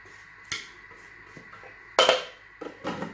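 A spatula scrapes the inside walls of a Thermomix bowl during cooking: a few separate, close scraping clanks spaced out over a few seconds, the loudest near the middle, with quiet gaps between and no speech.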